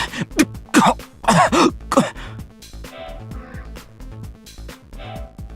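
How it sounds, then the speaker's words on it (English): A burst of harsh, repeated coughing for about two seconds, followed by quieter, muffled sounds. "A fit of coughing interrupted"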